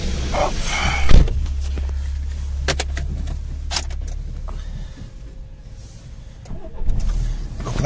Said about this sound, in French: Là je viens de mettre le contact